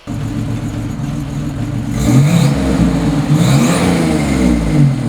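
A 1986 Buick Grand National on a test drive, its engine revving up strongly as the car accelerates, a loud, close, rising mechanical roar with road noise throughout.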